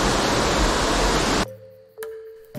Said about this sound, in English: This is that waterfall.